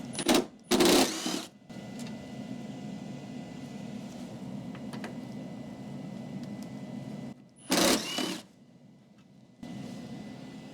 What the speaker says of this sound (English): I'm going to use my impact just to save time.